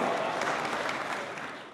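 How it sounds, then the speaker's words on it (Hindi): A mushaira audience in London claps to welcome poet Qasim Baba to the stage, a soft, brief patter of applause that fades gradually over a couple of seconds. "आपकी भरपूर तालियों में कासिम बाबा।"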